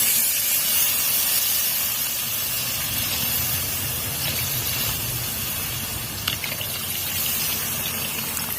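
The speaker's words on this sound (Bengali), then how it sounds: "আমার কষানো হয়ে গেছে, এবার এর ভিতরে আমি একটু জল দিয়ে দেবো।" Water goes into a hot pan of chicken curry masala with a loud, continuous steaming hiss and a gushing rush that stays steady throughout, broken by a brief clink near the end.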